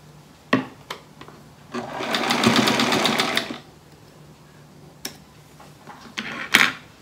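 A sewing machine runs briefly while sewing quilt pieces, a close buzzing stitch of about two seconds framed by scattered clicks and handling knocks in a quiet room.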